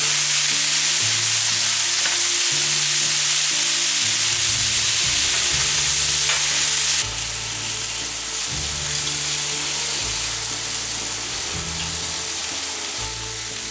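Balsamic-marinated vegetables fry on a Blackstone griddle with a loud, continuous sizzle and some stirring. Low musical tones play underneath throughout.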